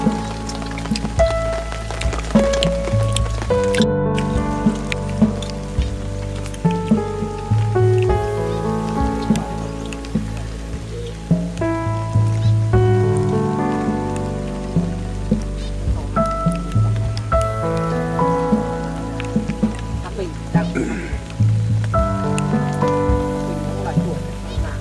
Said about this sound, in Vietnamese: Trời mưa lắm mọi người ạ.